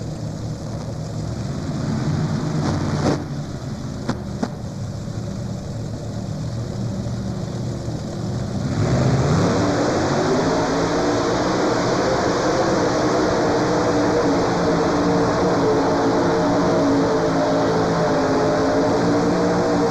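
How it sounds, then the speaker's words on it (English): Steady, loud tractor-pull engine roar at a farm machinery show, with a droning mechanical tone that holds throughout and swells a bit louder partway through, with no talking. "Well, let's pull this tractor on through."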